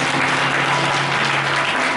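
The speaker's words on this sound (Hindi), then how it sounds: "एक बार जोरदार ताली हो जाए" Loud, dense applause from a large crowd at an Independence Day gathering, steady and sustained throughout with no pauses and no talking over it.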